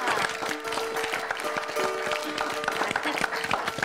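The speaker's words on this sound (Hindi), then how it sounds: "उनके लिए भी जोरदार तालियां" Applause from a studio audience on a Hindi television game show, rising for a player after a round, with a sustained tone running beneath the uneven clapping.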